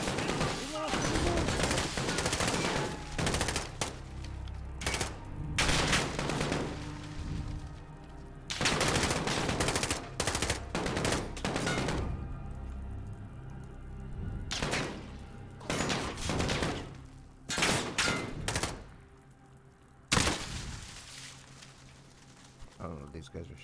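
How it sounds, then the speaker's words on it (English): Enemy gunfire in a Call of Duty campaign battle comes in repeated loud automatic bursts separated by short pauses, with a voice speaking in the gaps. "these guys are shooting at us"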